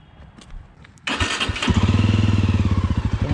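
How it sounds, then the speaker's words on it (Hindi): A Jawa 42 motorcycle with dual exhausts cranks and fires up after a quiet moment, then settles into a loud, rapidly pulsing exhaust idle close by. "इसका एग्जॉस्ट नोट भी सुनाता हूँ मैं।"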